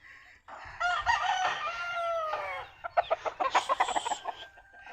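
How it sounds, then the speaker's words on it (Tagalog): Chickens at a farm's chicken coops, with a rooster crowing loudly and nearby in long harmonic calls, followed by a series of rapid, rhythmic clucks and squawks from the flock. "Yan yung farm ni Papa dito sa kanyang mga manukan."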